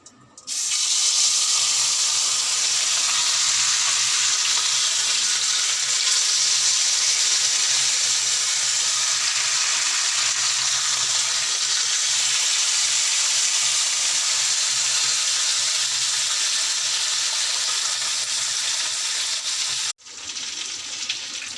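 Fish sizzles loudly and continuously in hot oil in a pan, a steady dense frying hiss that runs almost unbroken for about twenty seconds before a brief break and resumption, with no talking.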